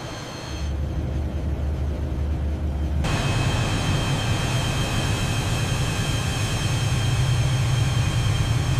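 Airplane on final approach to land at a valley runway, gear down and flaps set: a steady engine drone and wind roar that thickens and grows louder after a few seconds, continuous and without talk.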